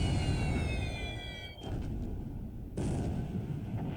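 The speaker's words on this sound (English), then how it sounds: "airstrike on Tarakan" Airstrike explosions in War in the Pacific, a naval strategy game, hit Tarakan as loud, dense bursts of rumbling blasts. A brief high whistling tone plays at the start, and the sound drops out for about a second midway.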